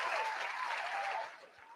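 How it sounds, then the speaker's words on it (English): Applause sound effect triggered from a button: a steady burst of crowd clapping that sounds alone, then thins and fades slightly near the end. "Somebody give him a round of applause."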